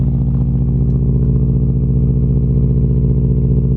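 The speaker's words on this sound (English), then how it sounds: "Hear a little bit of turbo noise." A 2002 Subaru Forester with a swapped-in 2003 US-market EJ205 turbo engine idles with a steady low throb and a faint high turbo whine above it, close by and continuous, with no voices.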